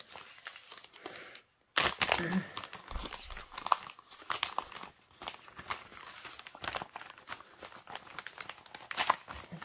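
A cross-stitch kit's plastic packaging is torn open and handled, giving close crinkling, rustling and tearing in irregular bursts after a brief silence, with no one speaking.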